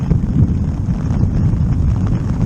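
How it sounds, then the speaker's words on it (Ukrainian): Strong wind gusts buffet a tent during a thunderstorm on a solo bicycle tour through the Balkans, a steady, close, low roaring rumble that swells and eases without any voices. "були такі сильні пориви вітру, що прийшлось тримати намет, щоб мене не здуло разом з ним."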